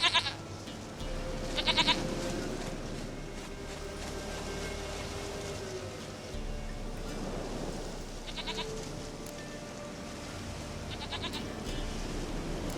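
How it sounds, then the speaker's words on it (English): A goat bleats in The Witcher 3: Wild Hunt, a few short nasal cries spaced across the clip over a steady ambient game background. "Goat of mine, dearest, sweetest goat."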